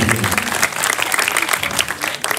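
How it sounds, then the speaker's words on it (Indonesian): Audience applause at a Balinese comedy performance held at a family temple in Bangli, with steady dense clapping from a crowd filling the whole stretch. "tepuk tangan untuk saya"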